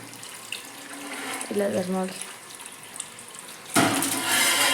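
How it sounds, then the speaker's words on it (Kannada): Water runs from a tap to fill containers, a soft trickle under a few spoken words that suddenly swells into a loud, steady gush close by. "ನೋಡ್ರಿ ಇಲ್ಲೇ ನೀರು ತುಂಬಕತ್ತಾರ್ರಿ."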